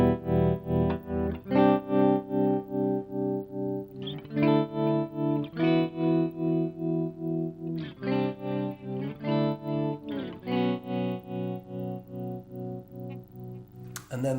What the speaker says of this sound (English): so I've got a tremolo first